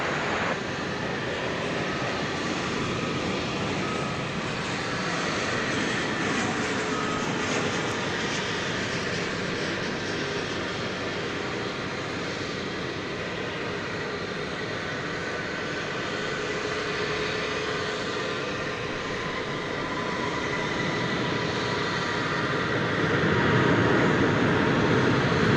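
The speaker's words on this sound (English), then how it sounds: "Here comes a flight from Guadalajara in Mexico" An airliner arriving from Guadalajara, Mexico, nears Dallas Fort Worth airport; a continuous broad jet-engine rumble hangs in the air and swells a little louder toward the end.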